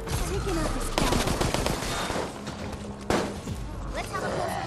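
Rapid gunfire and heavy cannon blasts fill a video game firefight in a downtown ambush, loud continuous bursts with sharp impacts near the start and around the three-second mark.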